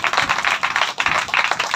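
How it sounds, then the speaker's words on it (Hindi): Church congregation at a Hindi worship service claps hands in a quick, rhythmic unison beat, many palms together, bright and fairly close for the whole short stretch. "ताली बजाएंगे बात जोर से"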